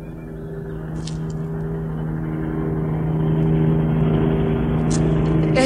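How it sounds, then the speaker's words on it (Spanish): Car engine approaching along a road, a steady low drone that grows gradually louder and nearer, with faint high clicks and no talk. "El próximo coche que venga por esta carretera pasará a través mío"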